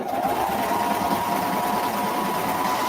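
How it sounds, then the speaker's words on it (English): A sewing machine runs steadily while stitching the side seam of a garment, a continuous loud mechanical whirring hum that holds at an even speed throughout, with no voices over it. "So sewing the side number 2."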